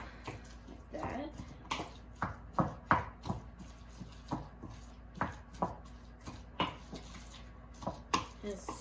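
Guacamole being stirred with salt in a bowl, giving a run of soft, irregular wet squishing and scraping strokes at close range, with no talk over it.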